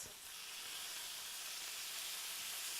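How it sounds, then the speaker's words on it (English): Cheesy broccoli sizzles in a hot pan on residual heat, a steady, faint, broadband hiss with no talk. "And we are still sizzling. That's just residual heat from this beautiful pan."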